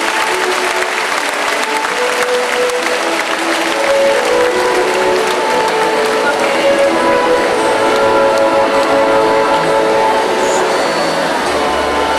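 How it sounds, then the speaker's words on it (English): Sustained applause from an audience at a school honoring rites ceremony, dense and steady clapping throughout, swelling slightly partway through. "a round of applause for the members of Grade School 1957"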